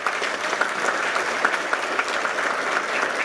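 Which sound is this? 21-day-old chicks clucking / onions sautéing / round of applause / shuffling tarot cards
round of applause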